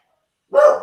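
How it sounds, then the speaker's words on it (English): A single sharp bark from a house dog sounds close and loud after a stretch of silence, cutting off abruptly. "Dog, shut up."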